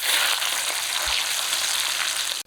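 Pabda fish fries in a wok, giving a loud, steady, crackling sizzle that runs unbroken for the whole stretch with no voices.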